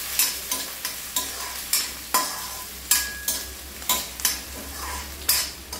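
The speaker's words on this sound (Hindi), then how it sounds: "प्याज को थोड़ा और हिला लेते हैं" Onions stirred in a frying pan for a green dry peas masala curry: steady sizzling with regular scraping strokes of a utensil against the pan, roughly two per second, close and clear, with no talking.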